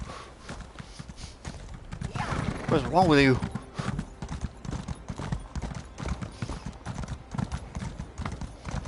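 Horse hooves clip-clop steadily while riding through an Elder Scrolls game world, with a horse whinny mid-clip and a voice talking over the hoofbeats.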